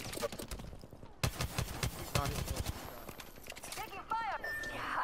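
Rapid bursts of gunfire in the battle royale game Apex Legends, sharp repeated shots mixed with game effects and player chatter, loud and close throughout.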